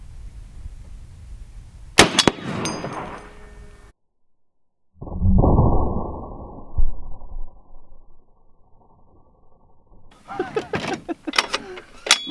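A heavy .50 caliber sniper rifle fired at a steel sewer lid outdoors, with a loud sharp blast followed by a rumbling decay, a sudden dropout, then a muffled roaring stretch and later scattered sharp impacts and clatter.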